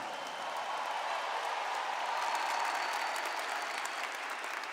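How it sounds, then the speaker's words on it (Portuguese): A large church congregation claps continuously for several seconds, a dense, even wash of applause that swells slightly midway. "Prepara para aplaudir"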